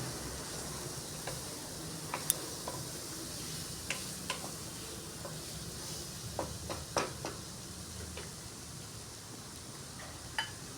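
Chicken sautéing in a pan with a little red chili powder for biryani: a faint steady sizzle broken by scattered soft clicks and ticks of stirring, with no talking.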